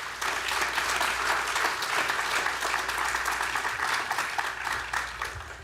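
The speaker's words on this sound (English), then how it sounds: "how about a round of applause for all the speakers you've seen today?" Warm, sustained applause from a conference audience at Mt. SAC Classified Professionals Day, saluting the day's speakers; thick, continuous clapping at a steady level throughout with no voices rising above it.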